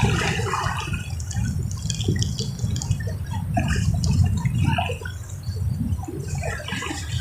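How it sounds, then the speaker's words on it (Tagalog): Strong sea waves wash and churn near a fishing picnic spot, a close, continuous rushing and splashing of water with no voices heard. "Ang lakas naman kasi ng alon."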